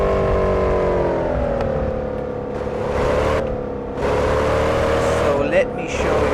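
Modded Mercedes C63 engine heard from outside in the Assetto Corsa racing game, a loud steady V8 drone holding revs with slight pitch shifts, a gear change and a short pop near the end.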